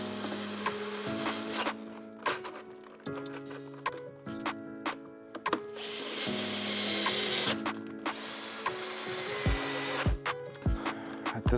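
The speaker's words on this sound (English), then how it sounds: "I'm going to now place the screws on for the other pedal bracket." A ratcheting tool ticks in quick bursts as screws are driven into a pedal bracket on an Inmotion V10 electric unicycle, close-up mechanical clicking with short pauses between runs.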